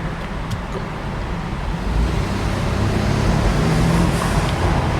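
A 2014 BMW 428i xDrive idles inside a parking deck, its exhaust a steady low rumble that swells slightly louder partway through, with enclosed reverberant background noise and no talking.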